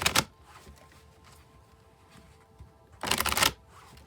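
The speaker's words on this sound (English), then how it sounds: "I'm going to shuffle till I feel like the deck is ready." A tarot deck being shuffled by hand gives two short bursts of crisp riffling card flutter, one at the start and one near the end, with soft handling noise between.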